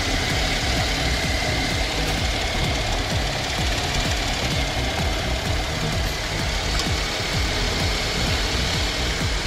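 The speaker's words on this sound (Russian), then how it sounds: "Также имеется видеообзор работающего двигателя." A used Subaru engine for a Tribeca runs steadily on a test stand, a dense continuous mechanical clatter and hum at close range with no talking and no change in pace.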